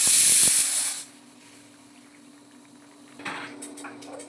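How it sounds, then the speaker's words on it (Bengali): A lid lifts off a pot of boiling fish curry, releasing a loud hiss of steam that dies down to a low simmering bubble, with faint clinks and rustling after. "এবার ঢাকনা খুলে দেখলাম মাছের ঝোল ফুটে উঠেছে।"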